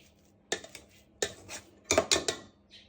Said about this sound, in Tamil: உருளைக்கிழங்கை வடிவாக மசித்து எடுத்து வைப்பேன் ஒரு பக்கத்தில்.